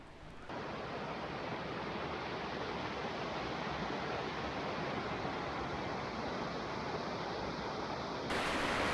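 A mountain stream rushes through Spearfish Canyon in autumn, a loud, constant broadband roar of flowing water close by, unbroken from start to finish.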